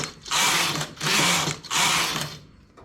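A knitting machine carriage runs back and forth across the needle bed, knitting rows in three loud, sustained mechanical rasping sweeps separated by brief pauses, close by and with no talking.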